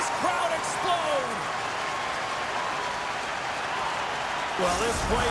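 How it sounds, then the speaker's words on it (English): A large hockey video game crowd (NHL 25) roars in a steady, sustained wash of cheering, with a voice speaking briefly at the start and again near the end. "And listen to this crowd explode."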